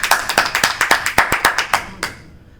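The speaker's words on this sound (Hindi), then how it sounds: "एक बार जोरदार तालियां" A small poetry-session audience claps for a poet, a few hands making sharp distinct claps in an uneven rhythm, loud and close, thinning out near the end.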